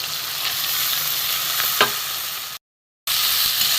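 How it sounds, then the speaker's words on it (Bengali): Chopped onion, garlic and tomato hit a hot pan for a prawn dish with taro and potato. A loud steady sizzle carries on with a brief clink, then cuts out for a moment before resuming. "এখানে আমার চপ করা পেঁয়াজ রসুন আর টমেটো আমি দিয়ে দেবো"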